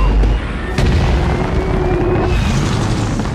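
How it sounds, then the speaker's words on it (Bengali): Three tanker trucks overturn and explode in an action movie scene, a loud deep boom bursting near the start and then settling into a sustained roaring rumble. "এতে ওয়েনের 3টি ট্রাক উল্টে গিয়ে ভয়াবহ বিস্ফোরণ ঘটে।"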